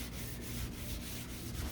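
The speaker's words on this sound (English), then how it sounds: "Oh, this is sanding so nice." Steady rhythmic hand sanding on the deck lid of a 1969 C3 Corvette, close and fairly quiet, with repeated back-and-forth strokes and no talk.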